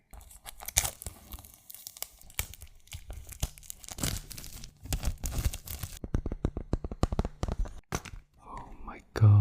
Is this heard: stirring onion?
no